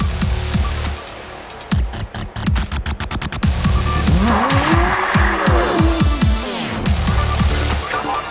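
Formula SAE race car speeding past at a student competition in Michigan, with loud engine revs and rising-then-falling pitch sweeps as it passes, tires squealing through quick gear changes and repeated fly-bys.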